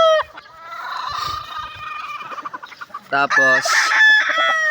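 Gamefowl roosters kept by backyard breeders, including a Boston Pile breed, crow loudly and cluck nearby, with long drawn crows overlapping short clucks, and someone briefly speaks between them.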